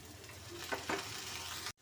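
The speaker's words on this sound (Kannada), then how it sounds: "ಇವಾಗ ಟೊಮೆಟೊ ಸೇರಿಸ್ತಾ ಇದ್ದೀನಿ" Tomatoes, cashews, ginger and garlic fry in a pan for radish masala gravy, a steady close sizzle with a couple of brief stirring scrapes before cutting off abruptly.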